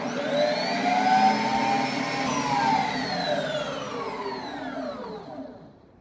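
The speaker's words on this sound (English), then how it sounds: "I'm going to insert it until I hear a click, turn it on." A Ninja Creami machine spins protein-powder light ice cream with a loud whirring motor whose pitch slowly rises and falls, steady for several seconds before winding down near the end.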